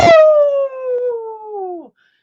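A person's voice imitating a beagle howling, one loud sustained howl that slowly falls in pitch and breaks off at the end, close and alone.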